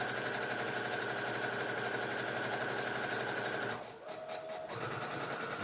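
A sewing machine runs in a steady fast whirring drone while stitching a stuff sack, pausing briefly near the end before starting again, close and loud.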